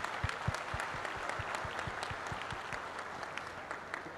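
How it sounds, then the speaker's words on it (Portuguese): Steady applause from a crowd, dense clapping that holds at an even level for the whole stretch with no talking. "Esse merece uma salva de palmas do Blue."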